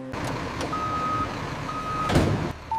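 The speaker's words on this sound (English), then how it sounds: "Armored truck arrives." An armored truck reverses with repeated backup beeps over a steady engine rumble, and a loud air-brake hiss lands near the end.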